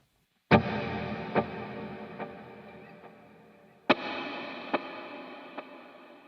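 Two strummed guitar chords each ring out through a tape delay pedal set near infinite repeats, evenly spaced echoes slowly growing fainter, distorted and close.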